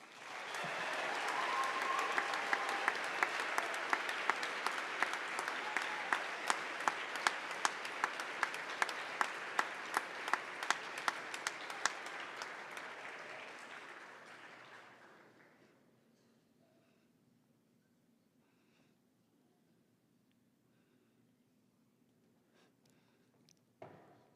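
A school honors day crowd breaks into sustained applause for an award recipient, many hands clapping loudly for about fifteen seconds before thinning to a few scattered claps and quiet room noise.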